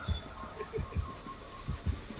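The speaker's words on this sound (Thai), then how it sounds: "ถ้าหัวใจยิ่งเต้นดังก็หมายว่าอยู่ใกล ้ดังขึ้นก็แสดงมันมาแล้ว" A throbbing heartbeat warning from the killer in the video game Dead by Daylight pulses in low, thudding double beats that repeat steadily about every 0.9 seconds at moderate volume.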